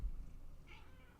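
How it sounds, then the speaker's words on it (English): A cat meows once from under a desk indoors, a short, faint mid-pitched call over a low room hum. "You're just gonna keep meowing under the desk?"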